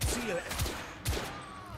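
Three sharp video game gunshots from The Order: 1886 crack out at roughly even intervals, with a faint background hum between the shots.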